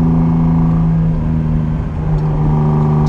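Steady, close engine drone from a 1974 Ferrari 246 GTS Dino, mid-engined V6, cruising with a constant humming note and a slight dip midway, no voices.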